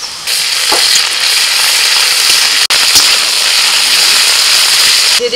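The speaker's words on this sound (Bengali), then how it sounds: "পেঁয়াজটা ভাজা হয়ে গেছে, দিয়ে দিচ্ছি আদা রসুন বাটা" Ginger garlic paste goes into hot oil with browned onion and spatters hard, a loud continuous sizzle laced with sharp crackling pops, heard close up and alone with no talk.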